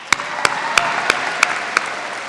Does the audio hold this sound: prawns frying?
no